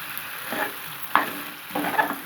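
A spoon stirs macaroni and vegetables with tomatoes in a pan, giving a few soft scraping strokes over a faint sizzle, close and quiet.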